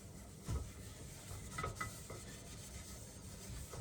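Oil is rubbed around all the surfaces of a hot cast iron skillet for reseasoning, giving a faint, steady scraping rub with a couple of slightly louder swipes, close but quiet.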